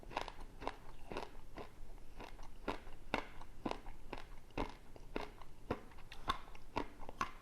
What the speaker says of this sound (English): Did I mention the candies were hard and crunchy?